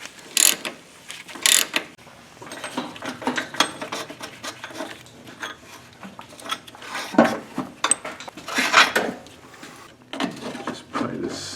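A ratchet backs bolts out of a car's steering rack in repeated bursts of close, fast clicking, with clanks of metal and tools between the bursts.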